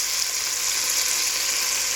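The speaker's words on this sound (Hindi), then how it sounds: "लहसुन डाल के हमने इसको हल्का सा सौटे करना है" Garlic sautéing in a pan on a stove set to medium while egg fried rice is being made: a close, steady frying hiss that carries on without a break, with no talking.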